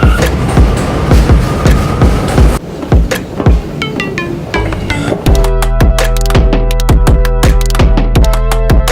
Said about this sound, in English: This is the Queens-bound J local train